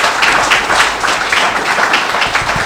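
Audience applause at a 50th anniversary celebration of an alumni center, a dense, steady wash of clapping sustained throughout at fairly loud level with no pauses.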